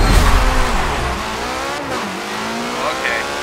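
Race cars roar in Forza Motorsport 7 while lapping a field of Beetles, engines loud and close with shifting pitch, tire squeal through corners, and a voice talking over the action.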